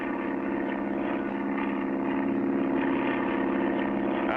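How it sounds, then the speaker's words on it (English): A propeller plane's engine drones steadily at moderate volume as an animated aircraft departs with its passengers, a continuous mid-pitched hum with no voices. "Clutch and Company board their plane and begin their trip."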